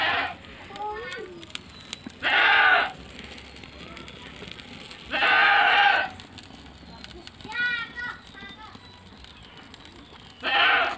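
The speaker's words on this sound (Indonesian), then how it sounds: "teriakan dari indukan kambing ini" A mother goat left by her kid bleats loudly in repeated long, strained cries, three or four separate calls spaced a couple of seconds apart, with fainter animal sounds and a voice in between.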